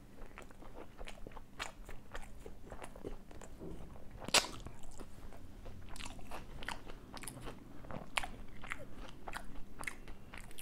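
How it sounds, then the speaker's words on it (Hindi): Close, quiet chewing of fish curry, with a crisp bite near the middle followed by soft, irregular crunches and wet mouth sounds, no talking. "बड़ी बाइट लेते हैं।"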